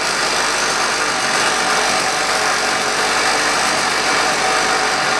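A Strike Master ice auger engine idles after a carburetor replacement, giving a loud, steady, buzzy drone that holds unbroken throughout.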